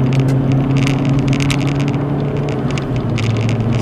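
Steady close drone of a car cruising on a freeway while overtaking another vehicle, with a continuous low engine hum, road roar and tyre noise at an even, unbroken loudness and no talk.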